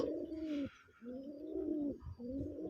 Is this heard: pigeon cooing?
yes